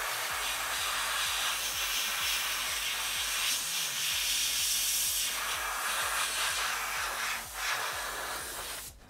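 An airbrush sprays adhesion promoter onto a Masters of the Universe Snake Mountain toy, producing a steady close airy hiss that runs almost unbroken, with a faint rhythmic compressor thump underneath.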